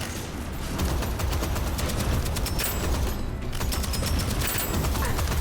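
Dense bursts of gunfire and explosions from a shooter video game, Deadzone: Rogue, sounding as continuous loud rapid popping and booms.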